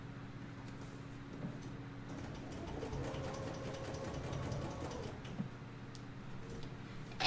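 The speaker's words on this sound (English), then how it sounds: "I'm going to continue sewing. Now that is the serpentine stitch on the machine" A Bernina sewing machine runs a serpentine stitch while binding fabric, a soft continuous mechanical whir with faint rhythmic ticking, quiet and close, rising briefly in the middle before slowing.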